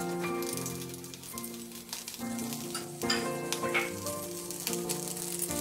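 Cumin seeds and green chillies sizzle in hot oil in a pan for Telugu tomato charu. The crackling is steady and close, with sharp pops scattered through it.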